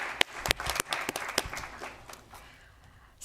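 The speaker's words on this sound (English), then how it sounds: "Another round of applause is great for me." Scattered applause from the audience at a formal school board meeting, a few sharp individual claps at first that thin out and fade toward the end.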